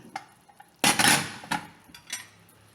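Metal clanks and a sharp clatter as a cooled pressure cooker lid is handled and lifted off cooked beetroot curry, followed by a few lighter metallic knocks.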